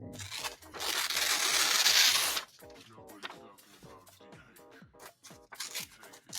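Paper torn by hand for a collage, scraps ripped without scissors: a long loud rip in the first seconds, then shorter tearing and crinkling bursts, with quiet talk underneath.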